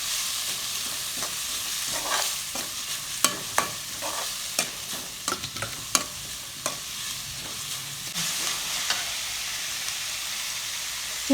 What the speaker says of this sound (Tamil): அதை போட்டு நல்லா வதக்கிக்கலாம்.